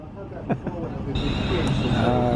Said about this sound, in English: that's the train departing